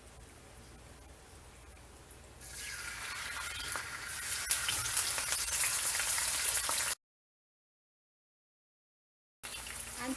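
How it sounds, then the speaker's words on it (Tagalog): Beef tapa frying in hot oil over low heat, a steady broadband sizzle that swells loudly once the meat hits the pan, continuing close and constant before a brief gap and a return of the sizzle. "piprituhin na natin yan dito yung ating beef tapa."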